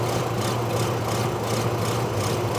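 A 2008 Chevy Trailblazer engine with a camshaft fault idles roughly and lopes, a continuous low rumble with a slow rhythmic pulsing rise and fall, heard close and steady throughout.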